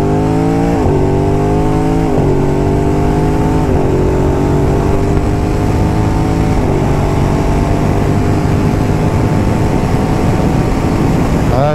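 An Aprilia RS660 sport motorcycle engine, in A2-restricted form, revs hard and climbs through several gear shifts, loud and close, its pitch rising and dropping with each change.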